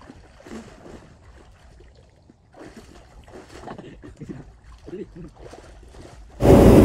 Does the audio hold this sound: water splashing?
yes